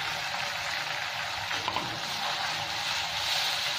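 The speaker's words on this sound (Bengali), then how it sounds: "এবার এটাকে ভালো করে ভেজে নেবো মশলাটা" A blended onion-tomato masala paste with ginger, garlic and a little salt sizzles steadily in hot oil, giving a loud, even, continuous frying hiss with no voices over it.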